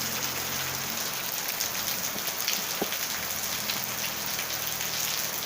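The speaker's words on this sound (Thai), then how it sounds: "ตกจริงๆด้วย" Steady rain patters against a window on Koh Kradaeng island, a dense, even hiss that holds at a constant level throughout, with no voices.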